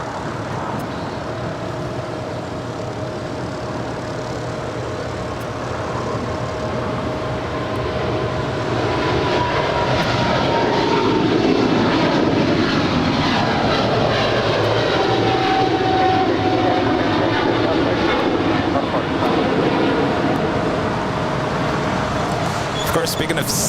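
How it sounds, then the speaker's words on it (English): A DHL Kalitta Air Boeing 777 cargo jet departs Los Angeles airport bound for Sydney with a sustained jet roar that swells and peaks midway, a rising then falling whine sweeping through it, and talk over the top. "that is the DHL Coletta Air 777 heading to Sydney."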